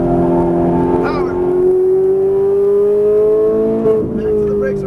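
A Ferrari 458 Italia engine revs steadily upward on a race track, a loud rising drone as it accelerates, with a brief shift near the end.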